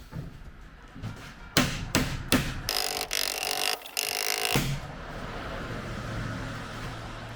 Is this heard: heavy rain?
no